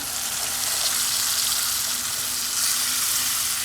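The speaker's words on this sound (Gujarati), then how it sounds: "ચણા ચડે એટલું પાણી રેડી દેવાનું" Water hits a hot pan of green chickpeas being cooked as a Kathiawadi-style curry, producing a loud, steady hiss and sizzle that holds evenly throughout, with faint stirring beneath and no talk.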